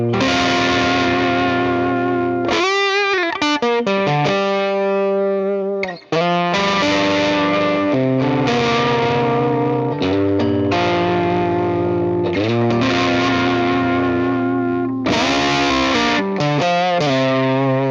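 An electric guitar through a thick, gnarly fuzz pedal plays chords and notes that shift from heavy distorted grind toward a cleaner tone as the guitar's volume knob is turned down, loud and close with no talking.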